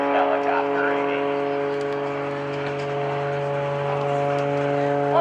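Extra 300S aerobatic plane hovering at a naval air station airshow, its piston engine holding a steady loud droning tone with strong harmonics throughout, with crowd and announcer noise faint underneath.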